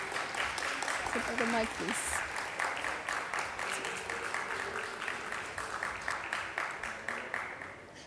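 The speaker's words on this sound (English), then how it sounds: "Please clap for her." An audience at a panel on gender equality and energy applauds a panelist being seated, with steady, moderately distant clapping running throughout while a voice speaks over it.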